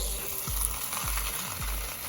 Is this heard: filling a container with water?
yes